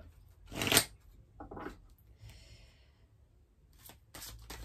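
A deck of oracle cards being cut and shuffled by hand, giving a few brisk papery riffles and slaps with quiet gaps between them, close and fairly loud with no talking.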